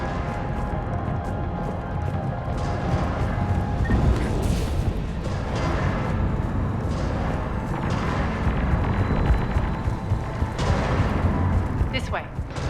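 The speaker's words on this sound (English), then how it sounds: "Those cannons have to be stopped." Cannons firing in the video game Mass Effect, a continuous barrage of deep booms and blasts rumbling at moderate level throughout, with a voice speaking over it.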